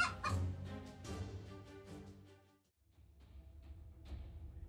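A domestic hen defending her chicks against a cobra gives loud, agitated clucks and squawks in quick bursts, then a brief lull before fainter calls resume.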